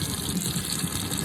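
Tap running into a bathroom sink, a steady continuous gush of water splashing at close range, alone without talk.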